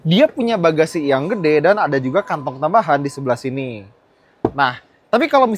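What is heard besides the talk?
No everyday noise stands out behind the speech.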